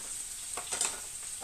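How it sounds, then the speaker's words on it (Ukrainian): Steady oil sizzle from a pan of frying onions for Hungarian-style meat, a constant hiss with a few brief louder crackles, close by and with no voices. "І хай смажиться тут цибуля."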